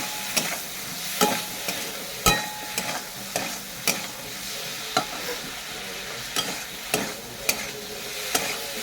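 Snakehead fish fries with spices, sugar and turmeric in a pan, a steady sizzle broken by sharp knocks and scrapes of a spatula stirring at irregular intervals, close and moderately loud.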